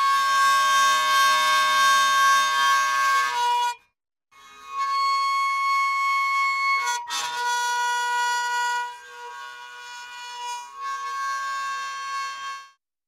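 A pull saw is bowed with a cheap cello bow, giving an eerie, steady, siren-like tone with bright overtones across three long sustained strokes separated by short pauses, played alone with no talking.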